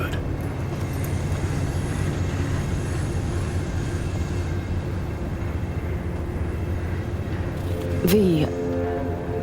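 A train arrives in Cyberpunk 2077 with a long steady rumble of rolling wheels and machinery, then a loud warbling horn-like tone near the end, with a spoken announcement over the noise.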